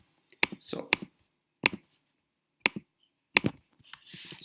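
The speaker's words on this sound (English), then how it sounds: "sorry for the clicking." Computer mouse clicks, a series of sharp, close, isolated clicks spaced unevenly over a few seconds, with faint breathy vocal sounds between them.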